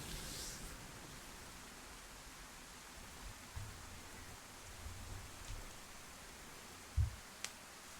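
Steady, faint rain falls in the DayZ survival game on the Chernarus map, a soft continuous hiss with a few low thumps near the end.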